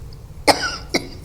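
Two sharp coughs from one person in a boardroom-style meeting, the first stronger and the second briefer about half a second later, close to the microphone with no talk over them.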